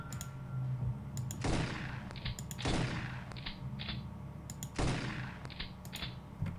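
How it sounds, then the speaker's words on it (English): Three separate gunshots ring out in the XCOM game, each a sharp, loud crack with a fading tail, spaced a second or two apart over a quiet hum and faint clicks. "Man, 3 shots and nothing."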